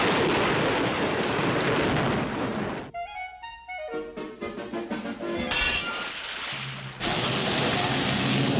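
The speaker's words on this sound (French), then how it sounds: "Vous avez déclenché un tel orage sur la maison de ce chien" Cartoon thunderstorm sound effect: loud, steady downpour of rain with a brief break of rumbling thunder and crackling strikes in the middle before the heavy rain returns.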